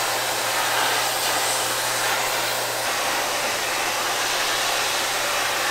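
A vacuum cleaner runs continuously with a loud, close, steady whine, cleaning a model railroad layout with no talking.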